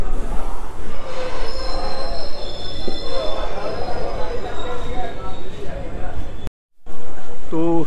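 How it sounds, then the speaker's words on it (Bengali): An express train pulls into Bolpur Shantiniketan station with loud, sustained wheel squeal and rolling rail noise. Voices murmur beneath it, and after a short break a different clip of the train continues. "ট্রেন এখন আসলো বোলপুর শান্তিনিকেতন"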